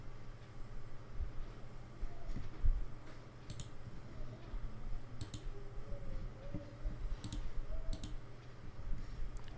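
Computer mouse clicks on a download button while installing Microsoft Paint on Windows 10: a handful of sharp, isolated clicks spaced a few seconds apart over a faint steady hum, with no talking.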